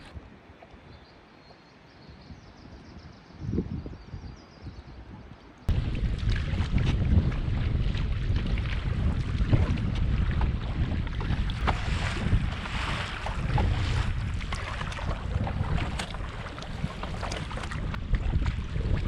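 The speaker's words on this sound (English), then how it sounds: "Just the gusts make it a little bit difficult sometimes" Strong wind roars and buffets the microphone in gusts, rising suddenly after a quieter start, over faint splashing of water from a canoe on a solo trip in Wabakimi.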